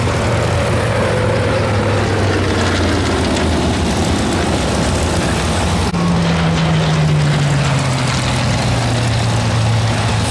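Propeller aircraft powered by a US-built Packard Merlin engine runs loud and steady at an air show, its droning tone sliding lower as it passes, with no voices over it.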